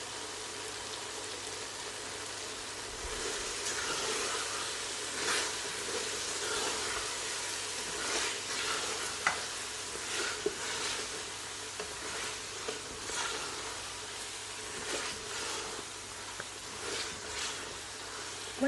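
Kasuri methi being stirred into lamb karahi in a hot pan, a soft, steady sizzle with scattered crackles and light scraping strokes, fairly quiet throughout.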